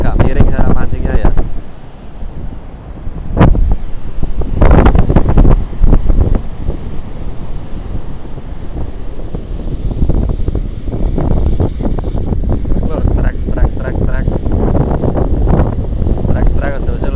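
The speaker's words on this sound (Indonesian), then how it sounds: "Anginnya dari timur ya." Strong easterly wind blows across a southern beach during surf fishing, a loud, continuous roar with gusty buffeting on the microphone throughout and sharper blasts near the start.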